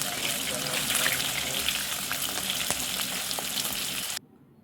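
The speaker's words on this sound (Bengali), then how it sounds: "তারপর গরম তেলে একে একে চিকেনের পিসগুলো দিয়ে ভেজে নিতে হবে।" Chicken pieces fry in hot oil for garlic chicken, producing a loud, steady, crackling sizzle close by that cuts off abruptly near the end, leaving near silence.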